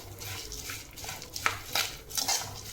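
Rice flakes and peanuts being stirred in a pan while making red samba aval and nel pori laddu, with scraping clinks of a spatula against metal and a faint dry sizzle, fairly quiet and without talk.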